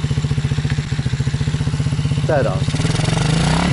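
An MRF motorcycle engine chugs in a steady, close pulsing rhythm, building slightly as throttle is applied toward the end, with a short spoken word over it.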